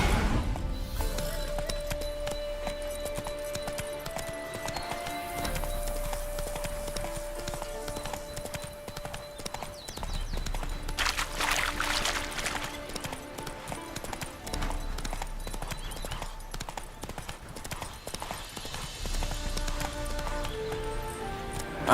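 The horse Roach trotting in The Witcher 3, with a steady clip-clop of hooves running under a continuous layer of game music and ambience, moderately loud and even throughout.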